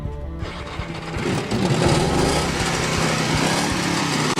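A car engine runs steadily with a buzzing, high-pitched drone that grows slightly louder after the first second, continuous and close, with no voices.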